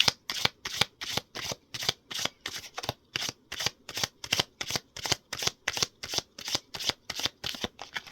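Tarot cards shuffled in a brisk, steady riffle, a long even run of sharp papery bursts repeating about twice a second, close and clear with no talk.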